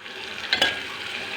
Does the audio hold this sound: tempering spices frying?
yes